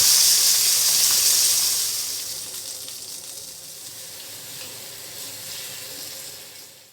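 Oil sizzles and hisses steadily in a pan as small country tomatoes fry, loudest at first then settling into a softer continuous crackle.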